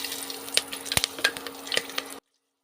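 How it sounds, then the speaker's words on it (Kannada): Green chillies frying in hot oil, a close, bright crackling sizzle with sharp pops and spits, running steadily before cutting off abruptly into silence. "ಈಗ ಎಣ್ಣೆ ಕಾದಿದೆ. 10 ಹಸಿರು ಮೆಣಸಿನ್ಕಾಯಿ ಹಾಕ್ತಿದ್ದೀನಿ."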